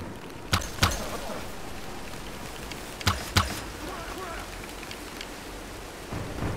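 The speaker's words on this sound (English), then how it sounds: "it's raining really heavily" Heavy rain falls in the video game Minecraft as a constant dense hiss, with a few sharp snapping impacts scattered through it.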